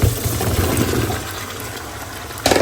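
Food being rinsed under a running kitchen tap, with a steady, close rush of water that runs for a couple of seconds and surges louder at the end.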